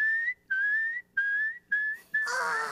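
A person whistles an imitation of birdsong as five clear, rising high-pitched notes separated by short pauses, close and loud. The last note blends into a burst of hiss.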